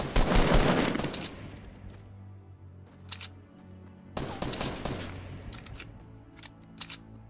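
Gunfire in the battle royale video game Fortnite, with a loud opening burst of rapid shots, scattered single shots in the middle, then a second heavy volley and a few sharp late cracks.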